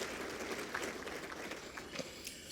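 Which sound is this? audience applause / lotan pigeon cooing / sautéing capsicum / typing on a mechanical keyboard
audience applause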